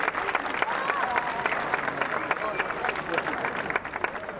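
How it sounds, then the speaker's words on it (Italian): An audience at an evening poetry prize ceremony in Chiesina Uzzanese claps for guests Carlo Giuffrè and Paolo Panelli, a moderate, somewhat distant patter with crowd voices murmuring underneath. "a cui va il vostro applauso."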